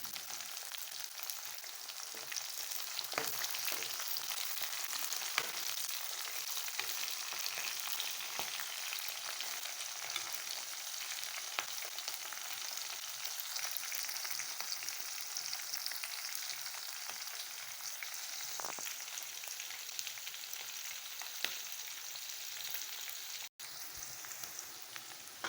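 Green chilies fry in hot oil for a Pindi-style curry, giving a steady, even sizzle with soft crackles that carries on alone throughout.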